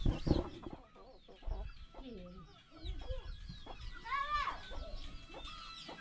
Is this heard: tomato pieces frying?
no